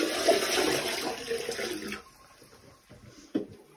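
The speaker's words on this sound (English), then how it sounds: "We're just gonna go ahead and dump the water into the toilet." Water is poured from a basin into a toilet after foot care, a close, steady splashing pour for about two seconds that ends, then quiet handling noises and a short clunk.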